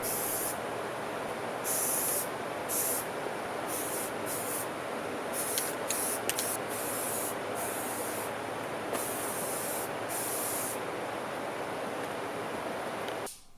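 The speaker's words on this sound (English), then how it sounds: "and then spray painted it matte black" Steady hissing spray from an aerosol can spray-painting a steel table frame matte black, nearly continuous with a few short pauses and bursts, close by and fairly loud.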